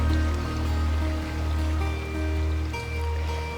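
A fast, loud river flows in a steady rushing roar with slow swells in level, close and continuous, with no voices.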